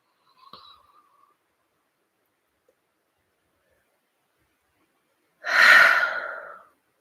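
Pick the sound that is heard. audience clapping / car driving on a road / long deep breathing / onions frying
long deep breathing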